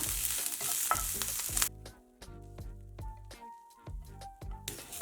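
Coriander leaves sizzle and crackle in a hot pan for a moment, then quieter stirring continues beneath soft background music.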